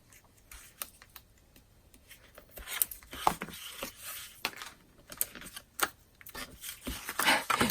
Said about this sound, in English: just get my tear and tape here